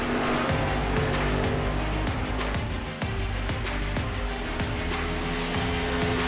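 NASCAR COT stock cars run on track during qualifying at Long Pond in iRacing, a dense continuous engine roar with steady droning tones and passing surges, loud throughout and without talk.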